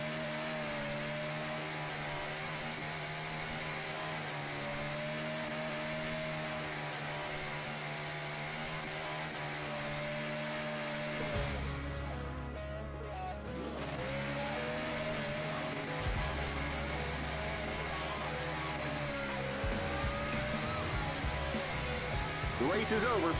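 A stock race car in the NR2003 racing game does a celebratory burnout at Michigan, its engine droning and whining loudly with shifting pitch as it revs, continuous throughout.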